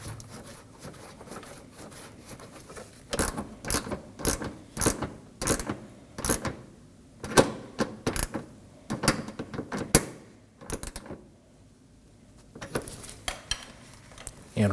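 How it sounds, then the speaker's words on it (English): A ratchet spins a 10mm corner bolt back into the front bumper area of a 2015-2023 Nissan Maxima, giving bursts of quick metallic clicks and clanks, close up and with no speech. "And we can reinstall our corner 10mm bolt."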